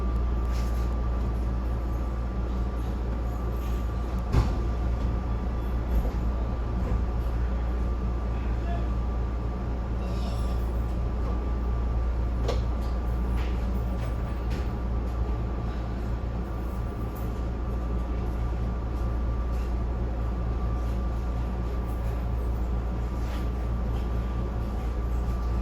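Inside a SEPTA local commuter train in Center City, Philadelphia, a steady low rumble and hum runs throughout, with faint clicks and rattles from the rails and occasional quiet voices in the car.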